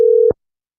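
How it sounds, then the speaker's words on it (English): A telephone busy signal after dialing, one short steady tone lasting about a third of a second, close and loud, then silence. "Let's phone Mark Hebsher"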